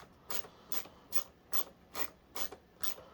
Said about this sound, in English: I'm using a ratchet screwdriver, which I do recommend because it makes it a bit easier to install.